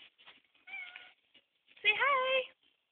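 A house cat meows twice indoors, a short soft call followed by a longer, louder, clearer meow, with quiet gaps between them.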